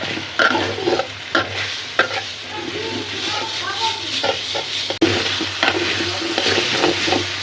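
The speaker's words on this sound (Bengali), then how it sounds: "দেখেন কত সুন্দর করে লাড়ালাড়ি করতেছে" Green noodles fry in oil in a pan while being stirred, producing a bright continuous sizzle with repeated scraping strokes and a sharp clack; someone speaks over it in places.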